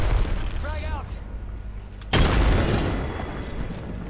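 A frag grenade detonates in a battle royale shooter game, one sudden loud boom with a rumbling tail that slowly fades, shortly after a brief voice.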